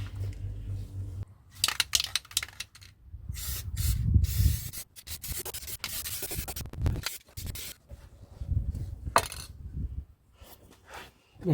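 Wax oil sprayed onto an Alfa Romeo subframe where flaky surface spots are starting: bursts of hissing spray come and go close by, mixed with rubbing and scraping handling noises and low thumps, with pauses between sprays.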